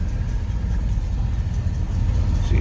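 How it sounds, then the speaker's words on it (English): A 1969 Chevrolet K10 pickup with a turbo 350 transmission idles steadily after starting, a close, continuous low engine rumble with no talk. "See, truck starts easily, runs well."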